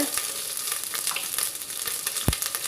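Curry leaves crackle and sizzle as they hit hot oil in a clay pot while native chicken curry is cooked, a steady close frying hiss with scattered pops and one sharp burst near the end.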